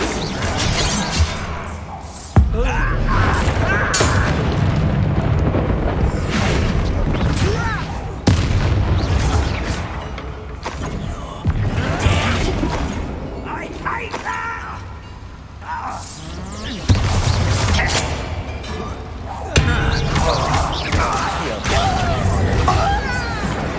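Bombarda spell explosions in the video game Hogwarts Legacy boom and crash repeatedly over clanking mechanisms and shattering debris, loud and close, with game voices speaking between blasts.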